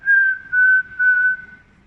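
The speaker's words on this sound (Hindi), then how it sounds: "आप एक सीटी आप मुंह से बजा लीजिए, बहुत इजी होती है" Mouth whistling: three sustained, steady high notes in a row, clear and close, with short gaps between them and nothing else in the background.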